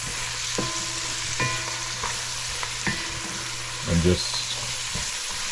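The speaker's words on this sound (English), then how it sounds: "we're going to let this saute down to a nice soft consistency with the aromatics" Eggplant sautéing with aromatics in olive oil in a pan gives a steady sizzle, with stirring scrapes and a brief clatter near the end, while a voice speaks briefly over it.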